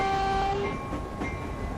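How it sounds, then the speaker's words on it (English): Train running in the Mechanik train simulator game, a steady rolling rumble with tonal whines and faint clicks throughout, moderately loud and continuous, with no talk. "very cautiously eased this train through the route."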